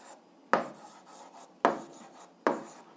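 Three separate scratchy strokes from writing down the number 3 as the answer to an algebra exercise. Each stroke starts sharply and fades quickly against a quiet room, with no speech.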